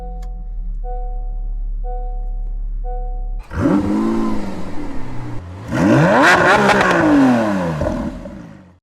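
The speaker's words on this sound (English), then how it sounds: "I'm gonna need to clutch in as I hit the start stop button." Honda Civic Sport Hatchback with a manual gearbox starts by push button after a steady chime, the engine cranking, catching and revving up loud and close, then settling before a second sharper rev.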